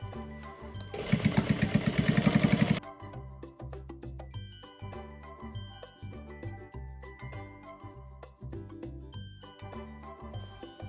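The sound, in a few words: sewing machine stitching a portable baby changing pad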